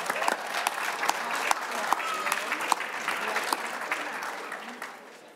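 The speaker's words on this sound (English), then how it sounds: "Now you can applaud." Audience at a judiciary and public safety committee hearing applauds as a recess is called, a dense burst of clapping with sharp individual claps that slowly fades out.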